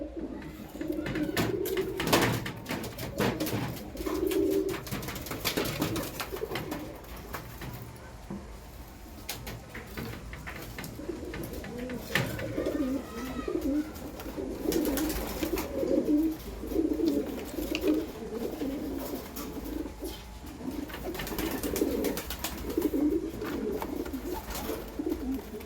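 High-flying pigeons newly paired in a loft coo in soft, repeated bursts close by, with occasional faint rustles and knocks in between.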